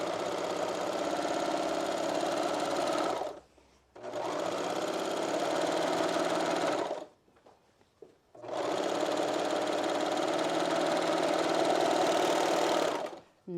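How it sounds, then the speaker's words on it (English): A serger sewing machine stitches an apron's underarm seam, running in three long, steady mechanical whirring bursts separated by brief pauses, close and loud. "Now I'm going to serge the underarm part, just following it along."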